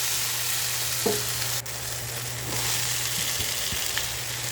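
Carrots fry in a pan for ginisang repolyo (sautéed cabbage) with a steady, fairly quiet sizzle, while a few scattered utensil clicks and scrapes from stirring stand out.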